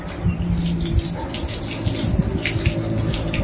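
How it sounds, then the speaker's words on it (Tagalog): Water gushes and splashes as a pet is rinsed during a bath, an uneven, fairly loud stream with bursts of spatter close by and no voices. "Banlawan na natin si Sisi."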